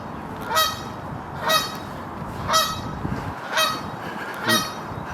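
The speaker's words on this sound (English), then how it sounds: "Noisy Canada geese" Canada geese honk loudly at Westport Lake in a regular series of about five calls, spaced roughly a second apart, over faint outdoor background noise.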